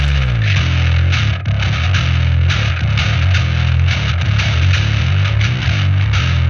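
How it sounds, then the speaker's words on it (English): Two bass tracks layered into one tone: a clean, tight low end under a gritty, distorted Filthy Bass preset layer, playing a continuous driving riff, loud and close with no voices. "Put the two tracks together and you get the bass tone."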